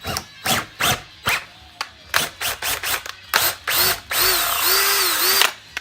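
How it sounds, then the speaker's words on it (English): Short bursts of a power drill start and stop repeatedly, then a longer whining run as a 5/16 bit enlarges holes in plugs, close by. "I'm gonna have to take a 5/16 drill bit and just enlarge these holes"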